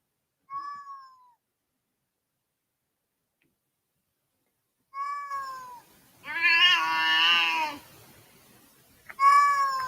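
A cat meows several times: a short mew, then a couple more, followed by a long drawn-out yowl and another meow, close and fairly loud with pauses between.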